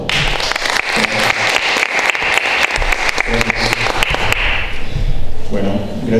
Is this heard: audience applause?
yes